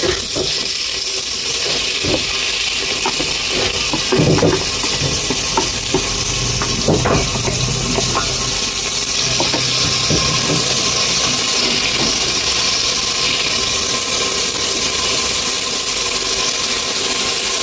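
Ginger garlic paste frying in hot oil with onions and green chillies for a ridge gourd dish, a steady sizzle with scattered stirring scrapes, close and continuous without talk.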